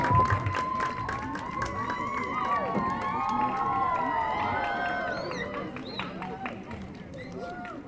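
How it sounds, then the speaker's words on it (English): Schoolchildren at a World Food Day event at a junior academy cheer and clap together, a sustained crowd of shrill, overlapping shouts with scattered claps that swells and then slowly fades. "Give them a round of applause as we have that photo."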